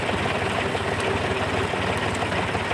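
A tractor engine idles on a forest farm during haymaking as the mower winds down, a steady low rumbling drone with constant vibration and no talking.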